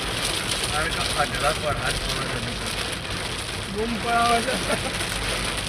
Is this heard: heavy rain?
yes